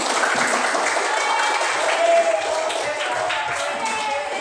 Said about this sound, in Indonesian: Tepuk tangan dulu untuk bersama.